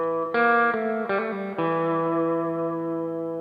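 A short distorted electric guitar riff plays a few sharp notes, then lets the final chord ring out and fade slowly.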